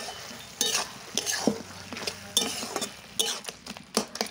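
A spatula stirs fried peanuts and lentil dumplings (bori) into a vegetable curry in a pan, giving close, irregular scraping strokes and soft clinks over a light sizzle, with no voices.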